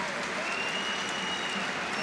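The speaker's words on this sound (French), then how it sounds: "Les applaudissements de Marcel Picot" Stadium crowd applauding at Marcel Picot during a Nancy football match substitution, a distant steady wash of clapping and crowd noise under a commentator's voice.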